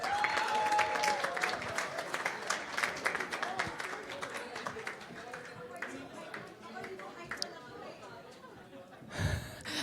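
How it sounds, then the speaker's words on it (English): Audience applause at a press conference for performers from an ASAP live show in Toronto: a full, crackling round of clapping that slowly thins and fades, with crowd chatter and a loud bump near the end. "one more round of applause, please, for our stars as they take their seats"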